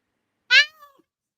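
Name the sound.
cat meowing for food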